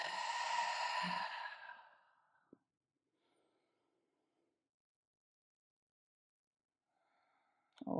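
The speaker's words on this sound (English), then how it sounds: "Deep breath." A long, audible exhale during a Gomukhasana (cow face pose) vinyasa yoga flow, strong at first and trailing off into near silence, followed by a soft intake of breath at the end.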